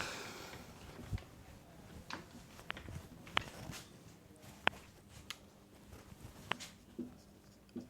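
Marker or chalk strokes on a board during a class lesson on magnetic effects of electric current, quiet scratchy scribbles with sharp taps at intervals, faint against a low room hum.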